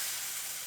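Pork chops seasoned with spice and brown sugar sear in a hot pan, giving a steady, close broadband sizzle with no pauses and no talk over it.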